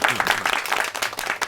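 Brief burst of scattered hand clapping from an audience at a party committee meeting approving a decision, fairly close and lively for about a second and a half.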